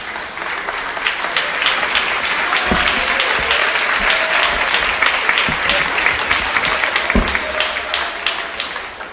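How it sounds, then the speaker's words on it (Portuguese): A church congregation claps together in praise during a service, a steady sustained wash of many hands clapping for several seconds with faint voices beneath. "podem louvar a Deus com as palmas"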